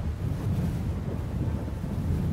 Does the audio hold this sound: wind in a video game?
yes